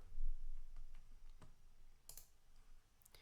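Typing on a computer keyboard, a short run of soft, uneven key clicks close by with no talking, while entering text into a code editor.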